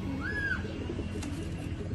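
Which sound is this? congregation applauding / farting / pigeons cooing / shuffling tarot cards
pigeons cooing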